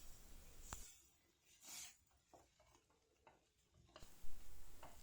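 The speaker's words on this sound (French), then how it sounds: "j'en verse un petit peu par un petit peu et à chaque fois, je mélange" A spoon works through a béchamel sauce in a pan over lowered heat as milk is added bit by bit, giving intermittent scraping and swishing strokes with brief pauses between them, close and fairly quiet.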